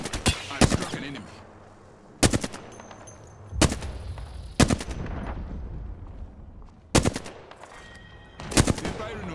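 Enemy gunfire in a video game, bursts of rapid machine-gun fire arriving in separate loud volleys several seconds apart, each followed by fading echo and low rumble.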